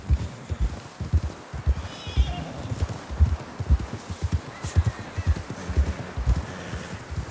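Horses plod through snow in the video game Red Dead Redemption 2, a steady run of heavy, muffled hoofbeats close by, with a snort or faint whinny over the irregular plodding.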